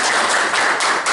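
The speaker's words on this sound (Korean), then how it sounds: "큰 박수 한번 부탁드릴게요." Audience applause at a first club meeting, a dense burst of many hands clapping together, loud and close, with no voices over it.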